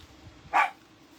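A single dog bark rings out once at moderate distance over quiet indoor room tone, short and sharp, with no voices around it.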